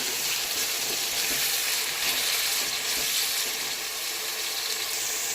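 Tomatoes sautéing in a pan for a Chettinad sankara fish curry, a dense, even, bright sizzle that holds steady from start to finish, near and alone.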